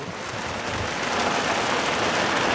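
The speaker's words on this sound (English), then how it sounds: "You see the rain Eric." Heavy monsoon rain pelts down steadily, a dense, even hiss of drops that holds at the same loudness throughout, with no voices over it.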